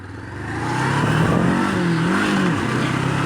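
A Honda CB400X motorcycle engine revs up close, climbing in pitch then wavering and dipping before settling into a loud, steady drone.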